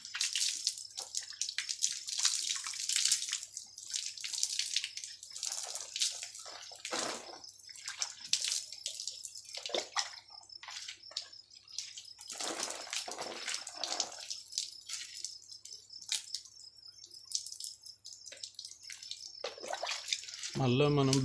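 Water is poured and splashed during washing, a loud, ongoing wash of splashes and trickles with brief pauses in between, close by.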